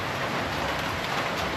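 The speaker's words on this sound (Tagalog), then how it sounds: "pero malaki yung patak ng ulan" Steady, dense heavy rain with large drops patters loudly on a rooftop, a continuous hiss with no pauses or voices.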